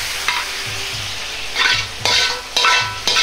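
Youlinji-style sauce of vinegar, sugar and aromatics heats in a pot, giving a soft, steady bubbling sizzle broken by several sharp stirring scrapes against the pot. Close and fairly loud, with no talking.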